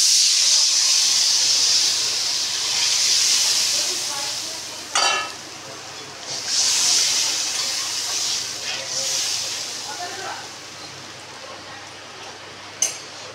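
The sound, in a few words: water poured onto fried spice paste, sizzling and boiling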